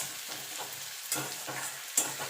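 Fish fat frying in a pan gives a steady close hiss and crackle, with a few soft stirring knocks and one sharp spatter pop near the end.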